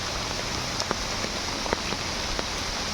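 Steady rain pattering on water and leaves at a pond inside a forest during fishing, a dense continuous hiss with occasional distinct drips and splashes standing out, no talking.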